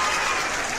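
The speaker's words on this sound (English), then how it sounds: "can we get claps?" Applause from an online debate audience, a brief dense burst of clapping at steady loudness, with no talk over it.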